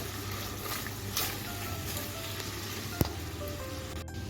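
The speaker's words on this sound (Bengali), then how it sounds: "ডার্ক সয়া সস দিয়ে দিচ্ছি এখন এটাকে আমি দেড় থেকে দু মিনিট সতে করে নেবো" Chilli paneer sautés with dark soy sauce in a pan, giving a quiet, steady sizzle with one sharp click partway through.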